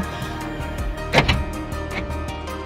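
A short mechanical click of the fuel injection priming in a 2014 Daihatsu Ayla X, rising briefly above a steady low engine-bay hum, followed by a faint second tick, with no talking.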